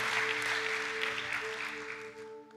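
A church congregation claps in a brief round of applause, a dense wash of clapping over a sustained organ-like tone that fades out near the end.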